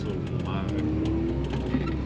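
A Volkswagen Rabbit fitted with a 3.6 VR6 engine is driven hard, giving a loud, steady engine drone with a faint rising whine.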